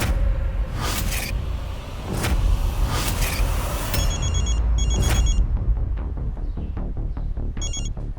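A landline telephone rings unanswered in a series of bright electronic trills that repeat at even intervals, heard over a dense dramatic music bed, with no one talking.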